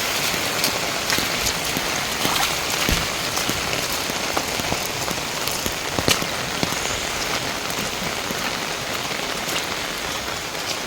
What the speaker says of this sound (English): Heavy rain, my viewers.